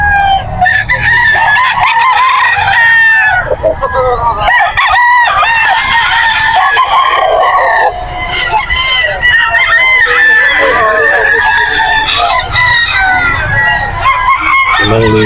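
White Kelso straight-comb gamefowl roosters at the Bocaue pet market: loud, close crowing from several birds that overlaps almost continuously, mixed with clucking and faint background talk.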